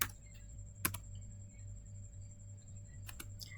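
Sparse keyboard keystrokes typing a Cisco router command, a few isolated clicks at the start and end over a steady low electrical hum.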